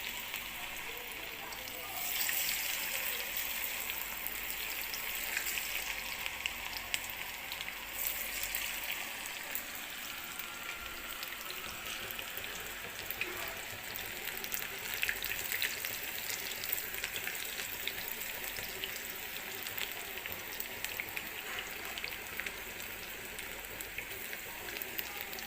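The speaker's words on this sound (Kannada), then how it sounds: "ನೋಡಿ ಈ ಥರ ಕರಿಬೇಕು, ಈ ಥರ ಫ್ರೈ ಮಾಡಬೇಕು" Bitter gourd slices deep-fry in hot oil with a continuous, dense sizzle and crackle that holds steady and close for the whole stretch.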